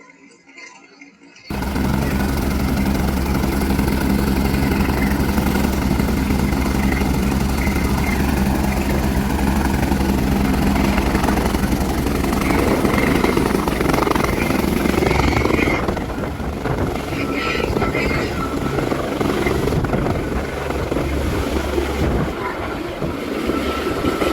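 A helicopter at a mountain helipad on the Manimahesh pilgrimage route starts as a loud, continuous rotor roar after a brief quiet moment, then rumbles on steadily with a slight easing partway through.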